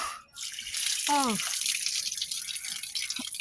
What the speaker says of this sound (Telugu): కొద్దిగా వాటర్ వదులుకుంది.